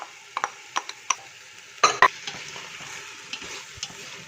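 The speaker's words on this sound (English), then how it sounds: "So I will add at this point also the chopped tomatoes." Chopped tomatoes are stirred into a thick Persian yellow split pea stew, bringing a few sharp spoon knocks and scrapes against the pot over a soft, low sizzle, with no voices.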